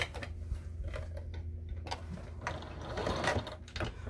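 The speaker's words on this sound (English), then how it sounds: "I'm just putting a decorative stitch" A sewing machine runs a decorative stitch along the fabric casing of a Christmas stocking, a close, steady rapid mechanical ticking and whirring with short pauses, and no talk.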